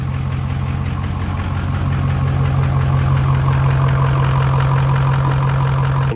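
A 6.0 diesel truck engine runs steadily after a new IPR valve is fitted, a loud, close, even idle with a low hum and clattering texture, alone until it cuts off abruptly at the end.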